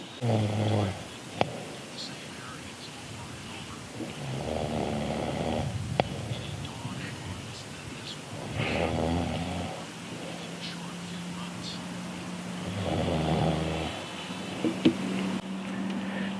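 A person snoring in slow, rough breaths, several rasping snores repeating every few seconds, fairly close, with quiet background noise and a faint murmur in between.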